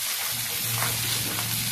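Pieces of fish dusted with turmeric and spice powder fry in hot oil, giving a steady, close sizzle with a faint low hum beneath and small crackles.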